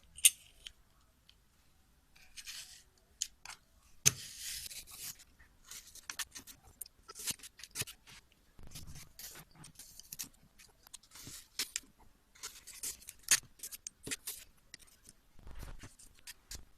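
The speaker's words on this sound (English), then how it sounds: "take a floral foam and cut out the little piece" A block of floral foam being cut into a small piece for a candelabra table centerpiece, heard as a run of close, soft crunching and scraping cuts in irregular bursts, with no talking.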